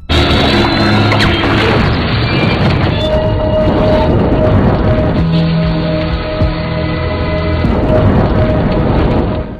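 A homemade bomb detonates in a film scene, a dense, loud roar of blast and crashing debris that rolls on continuously with rumbling low end and crackling layers throughout, no voices.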